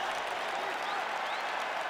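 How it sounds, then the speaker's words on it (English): Arena crowd in EA Sports UFC 5 applauds and cheers after a full 25-minute fight, a dense steady roar of clapping with faint whistles on top. "Stand and cheer, ladies and gentlemen."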